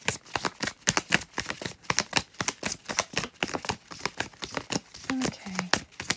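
Tarot cards are shuffled by hand in a rapid, rhythmic series of crisp riffling bursts, close and fairly quiet, with no talking.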